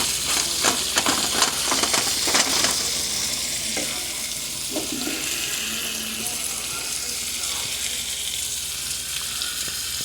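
Lamb frying in butter with garlic in a pan, a steady close sizzle running the whole time with a few stirring scrapes and clinks near the start.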